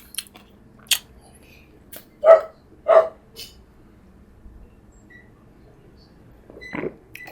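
Dogs barking in short separate bursts, a pair of close, sharp barks in the middle with a few fainter yelps around them, over a quiet indoor background.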